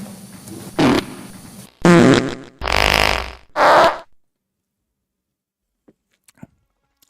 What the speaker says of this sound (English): Can we have a dog fart?